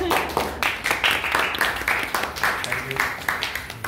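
Students in a cooking garnish class clapping together, several rhythmic rounds of close, moderately loud applause lasting a few seconds.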